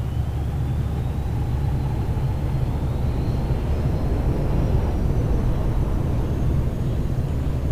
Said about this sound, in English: Once the engine started up, you're good for takeoff.